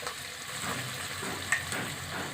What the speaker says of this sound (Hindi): अब हम इसको तकरीबन 3 से 4 मिनट गोल्डन ब्राउन करेंगे। प्याज बस हमने इसको इतना ही फ्राई करना है।